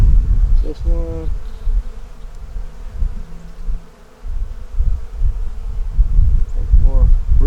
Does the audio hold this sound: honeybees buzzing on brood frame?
yes